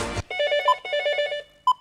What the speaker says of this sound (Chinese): 这谁电话呀？